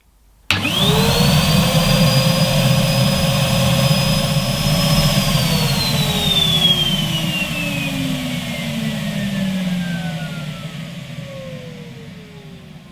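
A Numatic Hetty Pet vacuum cleaner, the 200 size model with a 9 litre capacity, switches on abruptly, whines up to a loud steady pitch, then slowly drops in pitch and fades as it runs on, with no talking.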